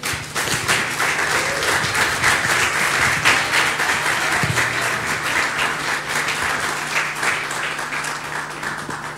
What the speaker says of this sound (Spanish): ¿Por qué no le da un fuerte aplauso a Jesús?